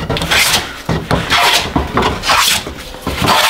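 A hand fore plane takes repeated passes along a wooden board in a workshop, making several rasping, shearing strokes in a fairly even rhythm, loud and close with brief pauses between passes.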